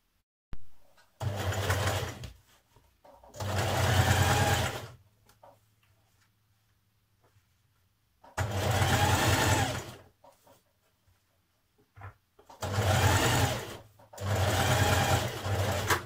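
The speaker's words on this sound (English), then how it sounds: "Once you have your zip in place, you can go in and do your top stitching." A sewing machine with a zipper foot topstitches a zip on a skirt in four bursts of rapid mechanical stitching, each a couple of seconds long, separated by quiet pauses with faint handling sounds.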